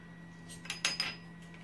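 A metal teaspoon clinks against a dish while lemon zest is measured out. Three or four faint, brief taps come close together in the middle of a quiet kitchen.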